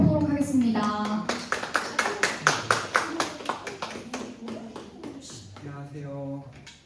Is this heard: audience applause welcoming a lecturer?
yes